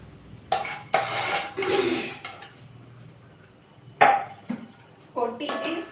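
Sautéed vegetables tipped from one vessel into a cooking pot, heard as several close metallic clanks, scrapes and knocks of pans and utensils in separate bursts with quiet gaps between them.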